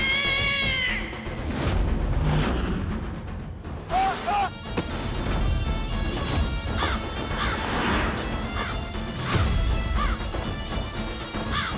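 Several loud cat meows and yowls, close by, mixed with crashes and thumps and some voices.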